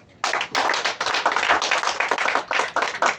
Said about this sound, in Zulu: Shayelani ihlombe National Ingoma Awards